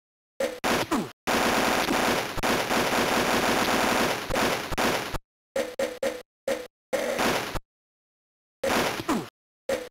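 Automatic rifle fire in the Army Men video game: a long sustained burst followed by several short bursts of rapid, close, loud shots separated by silent gaps.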